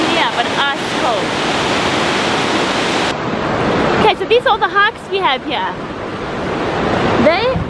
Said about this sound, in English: We're at this noisy waterfall.